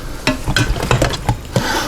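Pork and other meats being stirred in a pressure cooker, with close, loud sizzling and repeated scraping thuds of the spoon in an irregular rhythm, no talk.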